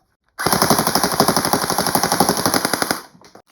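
An airsoft MP7 submachine gun fires a rapid full-auto burst lasting a few seconds, a steady mechanical chatter of shots, close up.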